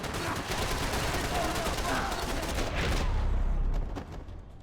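Gunfire in the Max Payne 3 video game, a continuous chaotic barrage of overlapping shots and bangs, loud throughout and then abruptly dropping away near the end.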